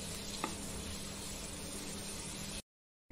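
Ginger garlic paste sautés with browned onion in a pan, a soft, even hiss of frying heard close and alone for a few seconds before cutting to silence.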